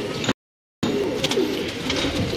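Pigeons coo softly at a breeder's loft in Lahore, a low murmuring burble heard close by over a steady background hum, with a brief dropout near the start.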